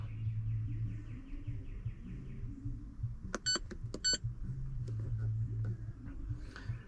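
A 2001 Ford F-450 with the 7.3 diesel undergoes a fuel injector buzz test, giving a steady low electrical hum with a few sharp high beeps partway through, all close up.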